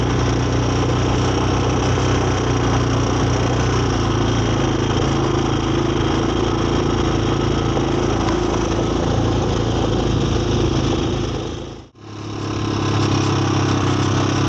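A Honda 250EX ATV engine runs steadily and loudly, close by, shifting into second gear, with a brief cut in the sound near the end before it resumes.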